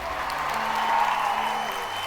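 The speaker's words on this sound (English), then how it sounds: "the crowd burst into uproarious applause" Crowd applause in the video game Variable Barricade, a steady broadband wash of clapping and crowd noise, moderately loud and sustained throughout with a faint background music tone underneath.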